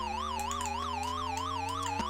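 Police siren from the Chase H.Q. video game, a continuous electronic wail warbling rapidly up and down over a steady low drone, loud and unbroken with a brief dip near the end.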